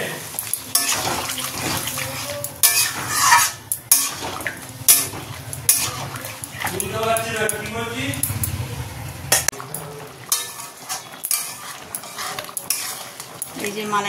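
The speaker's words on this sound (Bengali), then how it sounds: "এবার মাছটা দিয়ে দিই, যে আগে থেকে সিদ্ধ করে রাখা চিংড়ি মাছটা এবার দিয়ে দেবো" Boiled prawns and cashews for a malai curry are stirred in a pan, with repeated metal spoon clinks and scrapes, some wet sloshing and a brief murmur of voices, close by.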